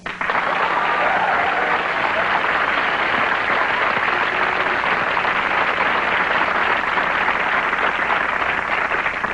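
A comedy club crowd at a stand-up show breaks into loud, sustained applause that fills the room in an even roar of many clapping hands, with a few shouts mixed in.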